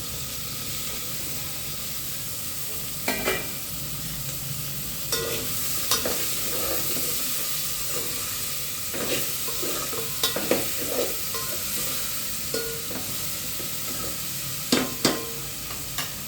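Tomatoes and bottle gourd frying in oil in a pan, a soft steady sizzle and hiss with repeated sharp scrapes and taps of a stirring spoon at irregular intervals, close and fairly quiet.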